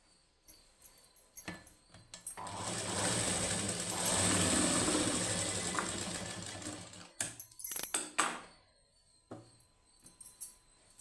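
A sewing machine stitches a plain blouse's high neck, running in one steady burst of a few seconds, then stopping for clicks and short handling noises.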